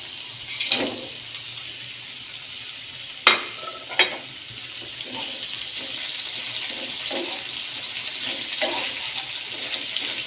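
Goat satay skewers for an Indonesian dish fry in a pan with a steady, close hiss of sizzling oil. A few sharp clinks and clatters break through, and no one speaks.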